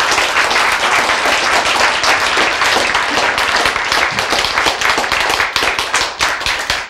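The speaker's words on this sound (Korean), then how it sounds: "박수 보냅시다." Steady applause from a lecture audience, dense clapping that stays loud for about six seconds, then thins out and fades near the end.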